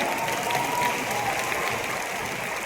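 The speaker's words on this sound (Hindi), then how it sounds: "तालियां।" Audience applause at a Delhi RCM Next Generation Program event, a steady, dense wash of clapping from a sizeable crowd that holds evenly throughout with no voices above it.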